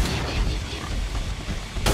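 Weapon fire in Killing Floor 2 booms and bursts in a dense, continuous barrage of game action, with a sharp fresh blast near the end.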